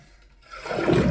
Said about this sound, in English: And here's a flush test.